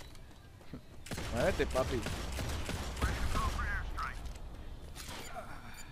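Rapid gunfire bursts from the mobile shooter Modern Combat 5, crackling in quick clusters over game noise while someone talks excitedly in Spanish.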